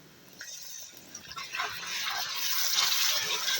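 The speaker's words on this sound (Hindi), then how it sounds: "मिक्स करने के बाद हल्का सा पानी शामिल करेंगे।" Water is poured into a pan of frying beef keema with spices, starting with a light splash and building into a steady, close hissing gush.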